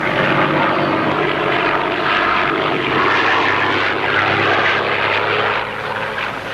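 Propeller airplane engine in a 1939 classic Tintin cartoon, a steady, loud droning roar that holds throughout with a dense, buzzy texture and no speech.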